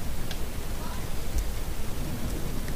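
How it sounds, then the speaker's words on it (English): Steady hiss of rain in the horror video game The Joy of Creation, a dense, even wash of noise with a faint low rumble beneath it. "It started raining"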